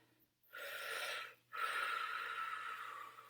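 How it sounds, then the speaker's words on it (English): A big deep breath during a yoga tree pose, a noisy inhale followed after a brief pause by a long, steady exhale, close and fairly quiet with no talking. "One more big breath."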